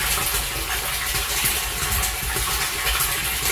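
Water gushes steadily from a borewell pump outlet, a loud continuous rushing splash with no pauses and no voices.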